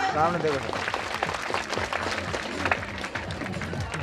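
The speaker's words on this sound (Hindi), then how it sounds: "जोरदार तालियां।" Audience applause at a women's village self-help group meeting, a dense patter of hands mixed with crowd voices and talk throughout, moderately loud and steady for the whole stretch.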